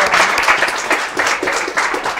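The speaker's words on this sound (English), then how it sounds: "Let's give a warm round of applause." A live event audience gives a warm round of applause after an interview, loud dense clapping from many hands close by, continuing without pause.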